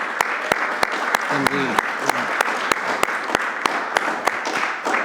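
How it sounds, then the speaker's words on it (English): Applause from an audience, steady clapping filling the space, with a brief spoken word partway through. "another round of applause to both of these fine interpreters"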